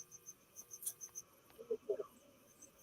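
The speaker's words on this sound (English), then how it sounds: "Mute the crickets." Crickets chirp in short, repeated high bursts, faint and steady in the background, with a brief voice-like murmur partway through.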